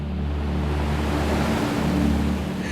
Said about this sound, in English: The waters crash and roar, the rocks vibrate, the waves tear open.